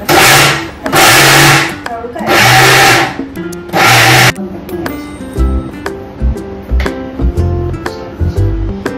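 A kitchen mixer grinder runs in four loud, close bursts of whirring with short pauses between, then stops, followed by clattering and handling sounds.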